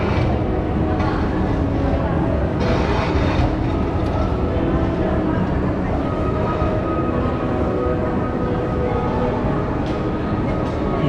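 An underground train runs deep beneath Jerusalem, producing a loud, continuous rumble and roar that stays dense and unbroken from start to finish.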